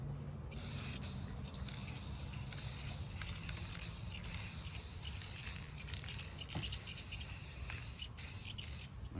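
An aerosol spray paint can sprays steadily onto a Harley-Davidson motorcycle fuel tank, a continuous close, loud hiss running the full length with a few brief breaks.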